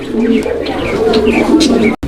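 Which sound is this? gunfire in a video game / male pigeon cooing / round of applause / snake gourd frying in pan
male pigeon cooing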